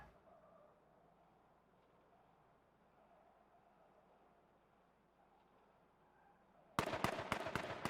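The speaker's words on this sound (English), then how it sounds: "Detect taking shots at Tom" Gunfire in the video game H1Z1 arrives as a sudden burst of sharp, loud shots near the end, following several seconds of quiet ambient hiss.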